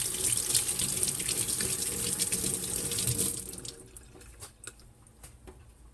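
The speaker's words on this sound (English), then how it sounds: "I want to try to root the avocado seed, so I'm going to wash it." Tap water runs loudly into a sink to wash an avocado seed. The close, steady splashing stops partway through, leaving faint drips and small clinks.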